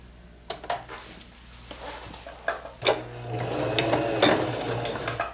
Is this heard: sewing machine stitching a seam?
yes